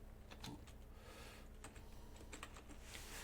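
Quick, light keystrokes on a computer keyboard, a short irregular patter of clicks close by and fairly quiet, with no voices.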